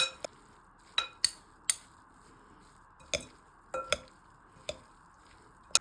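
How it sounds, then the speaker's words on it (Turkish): A spoon clinks against a bowl in a run of sharp, sporadic taps while spinach filling with black pepper and chili flakes is mixed, close and quiet with soft squishing between strikes. "Ve tüm malzemeyi güzelce karıştırıyorum."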